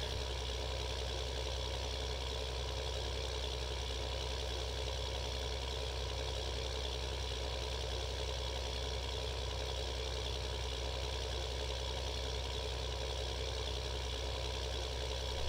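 A tractor engine idles in Farming Simulator 15, a constant, even, low rumble with a steady mechanical hum and no change throughout, no one speaking.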